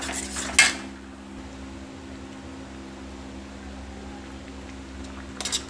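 Corn jhajria being stirred in a pan over a high flame, with a loud metallic scrape near the start, then a steady low hum and faint clinks of the utensil at the end.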